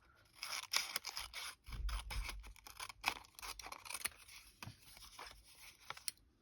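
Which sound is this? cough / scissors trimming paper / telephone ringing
scissors trimming paper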